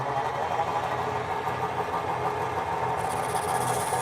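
Wood lathe motor running steadily while turning a hollow form, a constant mid-pitched hum with faint vibration, a higher whine rising near the end as the speed is cranked up; no talking.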